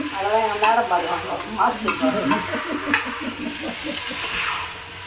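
Potatoes sizzle in a hot pan as they are stirred, with a crackling frying hiss and repeated scraping stirs close by, loud and continuous.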